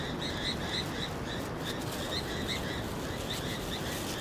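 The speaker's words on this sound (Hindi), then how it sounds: "चिड़ियाँ भी बोल रही हैं" Birds call at dawn in a jungle in Uttarakhand during winter camping, repeated high chirps and short whistled notes in a steady rhythm over a constant hiss of background ambience, moderately distant.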